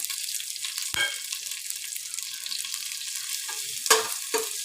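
Mint leaves and fennel powder frying in a pan over a low flame for green pea pulao, a steady soft sizzle with a few sharper stirring clinks, close and alone.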